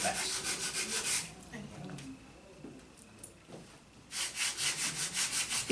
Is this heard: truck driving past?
no